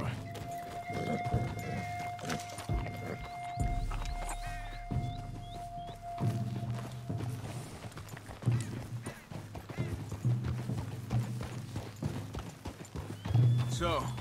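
In Red Dead Redemption 2, a horse's hooves clip-clop at a steady riding rhythm on a trail. Birdsong chirps and a sustained tone sound early on, and a brief whinny may break through.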